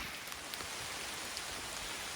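Steady rain falls evenly on a rural property with a treehouse deck and tractor nearby, giving a soft continuous patter with faint scattered drops and no voices.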